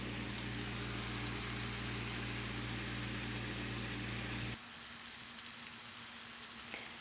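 Stuffing with craisins and vegetables cooking down in a pan gives a steady broadband sizzle under a low hum, and the hum drops out partway through while the softer frying continues alone.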